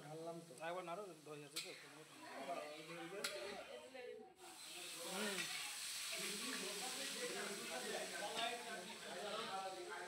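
French fries frying in oil give a soft continuous sizzle that becomes fuller in the second half, with a person talking over it.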